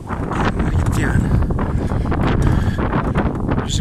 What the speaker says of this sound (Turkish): Rüzgarı karşıda pedal çevirmek